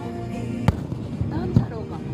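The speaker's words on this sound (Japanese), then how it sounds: "海を彩る空中花火ご覧ください" Aerial fireworks burst over the sea at a Japanese summer festival held at a fishing harbour, with two sharp bangs standing out above steady crowd chatter and background music.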